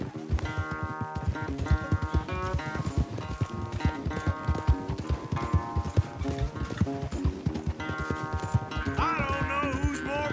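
Rapid rhythmic hoofbeats of a galloping horse in Red Dead Redemption 2, steady and close, layered over lively orchestral game music throughout.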